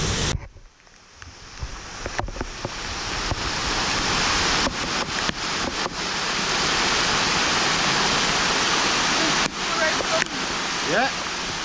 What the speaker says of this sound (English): It's maybe not the craziest waterfall I saw in my life.